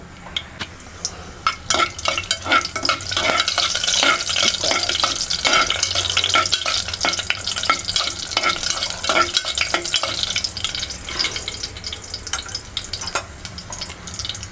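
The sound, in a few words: whole spices sizzling in hot oil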